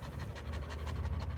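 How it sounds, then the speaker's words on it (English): A dog pants rapidly and steadily up close, quick breathy huffs in an even rhythm. "that's the dog panting."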